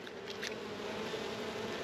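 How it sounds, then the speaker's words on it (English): Honey bees buzz in a steady, dense hum around an open nuc box being moved up to deep boxes, close and continuous with no voices over it. "I don't want to squish any bees"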